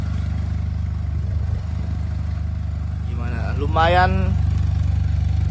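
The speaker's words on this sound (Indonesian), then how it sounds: "Nah, ini kita dengerin suara mesinnya" A Maxsym TL500 maxi scooter engine idles with a steady low hum throughout, and someone briefly speaks over it near the end.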